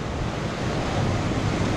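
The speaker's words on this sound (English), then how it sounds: "The waves are coming all the way up here and the tide is rising" Ocean waves surging in at high tide on the rocky shore near Dana Point, a steady loud wash of surf with wind buffeting the microphone and no voices.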